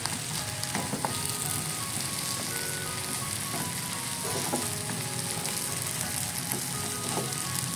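Mustard greens and omelette stir-frying in a home kitchen pan, a steady close sizzle with scattered spatula scrapes and stirring knocks throughout, no voices.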